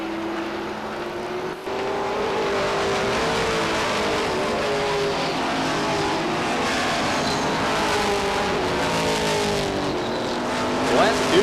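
Stock cars race at Beech Ridge Motor Speedway with a steady, loud engine roar that rises and falls as the cars pass, plus brief tire squeal near the end, all under continuous announcer commentary.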